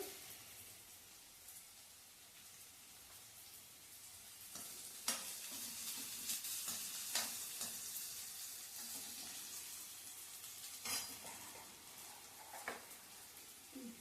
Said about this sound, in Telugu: ఇది బాగా గోల్డ్ కలర్ వచ్చేంత వరకు మనం ఫ్రై చేసుకున్నామండి